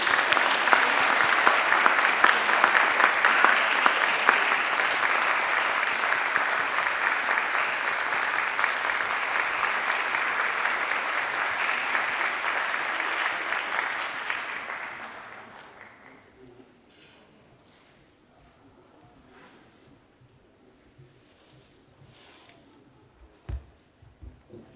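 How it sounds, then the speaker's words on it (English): A conference audience at an Ethereum session applauds to welcome the panel speakers, a full sustained burst of clapping that fades out after about fifteen seconds into quiet room noise with a few faint knocks. "Everyone, please have a round of applause to welcome all the speakers."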